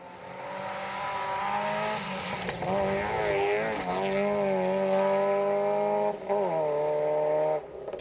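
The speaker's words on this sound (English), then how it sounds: "Rhiannon Walker and Paul Gribben through in the first of the MG3 trophy cars, also joining us here this weekend" MG3 trophy rally car on a Grizedale Stages forest rally stage, a loud sustained engine roar that builds, shifts pitch as it passes, and cuts briefly between gears.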